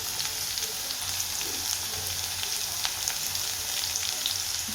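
Onion, garlic and green chili sizzle steadily in a hot pan, a continuous close crackling hiss with no talk.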